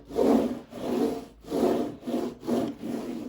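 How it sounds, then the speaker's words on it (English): A roller is pushed back and forth over a finished diamond painting covered in resin drills, giving six rhythmic rasping, rubbing strokes, close and steady, with no talking. "roll it over my diamond painting, all over, and be sure to apply pretty even pressure"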